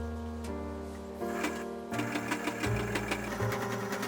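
Sewing machine stitching around the edges of a fabric napkin, a quiet close rapid mechanical chatter that starts and stops in short bursts with small clicks between runs.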